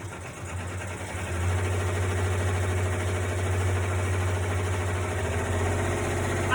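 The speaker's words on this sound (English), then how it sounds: "we'll go ahead and do the first stitch of that. So it's going to do the outline, the placement stitch." Embroidery machine running at full speed, stitching a placement outline on sequin flip fabric, a steady close mechanical hum with a low drone that stays constant throughout, no talk.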